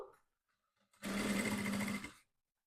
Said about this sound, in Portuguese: E vamos costurar aqui primeiro na beiradinha.